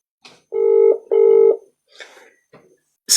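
A telephone gives out dialing tones during a call, two loud sustained beeps close together followed by a few softer, scattered electronic blips.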